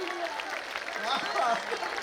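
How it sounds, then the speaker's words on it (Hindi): Audience at a Hindi comic poetry gathering (hasya kavi sammelan) applauds in a steady, even wash of clapping, with a voice speaking over it. "जोर से ताली बजाइए भाई साहब"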